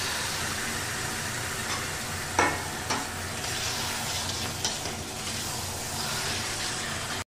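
Marinated chicken hits a hot pan and sizzles steadily, a loud, continuous hiss close by with a few clinks and stirring scrapes, and no talking.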